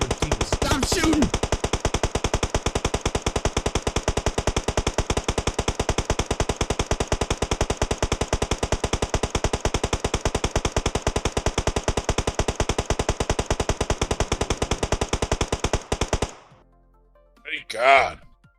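Sustained rapid automatic gunfire from a video game during a competitive scrim match, a steady, loud, evenly spaced stream of shots lasting about sixteen seconds before cutting off abruptly, followed by a brief faint sound.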